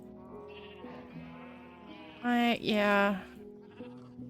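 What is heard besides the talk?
sheep bleating in a video game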